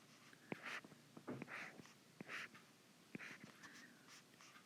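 Pen scratching across paper while a chemical structure is drawn, a quiet run of short strokes and taps with brief pauses between them and no talk.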